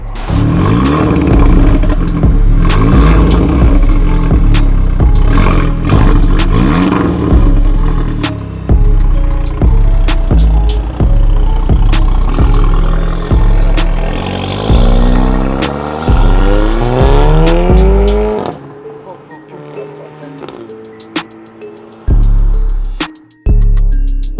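Grey Daytona Audi TTS accelerating hard through repeated gear changes, loud close engine revs rising and falling in steady pulls, then easing off to a quieter idle near the end with a final rev.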